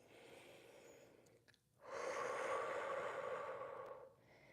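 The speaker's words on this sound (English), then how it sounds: "Breathing slowly out through pursed lips." Slow exhale through pursed lips during a Pilates workout, a soft airy hiss lasting about two seconds after a quieter breath, close and faint, with no talking.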